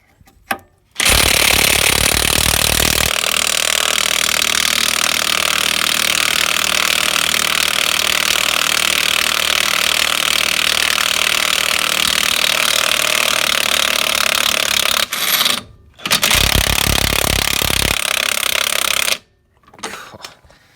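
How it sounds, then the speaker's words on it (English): An impact gun rattles loudly and continuously for about fourteen seconds, then fires in two shorter bursts, removing the gearbox bolts from a 2.3 dCi Renault Master. "that is where an impact gun"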